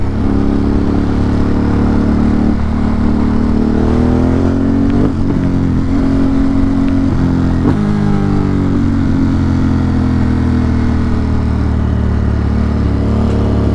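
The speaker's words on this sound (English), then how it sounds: "Bike makes all the fun noises." A motorcycle engine rumbles loudly and continuously, with the pitch rising and falling through several revs, close up and alone.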